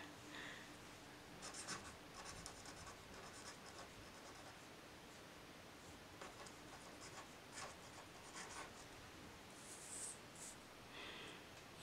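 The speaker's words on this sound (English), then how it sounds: "I'm gonna play with this pink pen I got" A fine-tip pink pen scratches across paper in short strokes and bursts, close and faint, with no talk.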